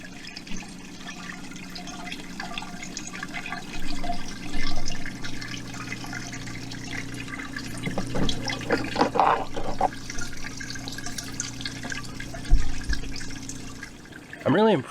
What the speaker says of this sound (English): it adds kind of a fountain water sound to your garden